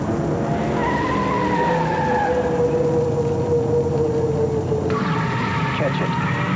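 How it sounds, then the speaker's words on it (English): A Miller Genuine Draft stock race car tears past with a rising engine whine and a sustained tire skid, its pitch sliding over several seconds and shifting abruptly near the end, all under a voice. "Miller Genuine Draft Rusty Wallace Stock Car."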